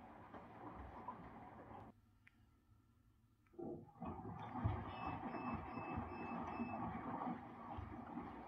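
Drum of a front-loading washing machine turning during a repair check, a low rumbling churn with water sloshing that pauses briefly, then resumes louder with a faint high whine.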